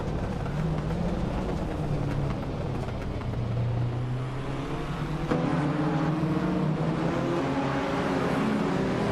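Race cars, a 1982 Lancia 037 Stradale among them, accelerate at Virginia International Raceway. Engines drone loudly and steadily, with rising and falling tones as cars pass, and a sharp surge near the middle, with no talking.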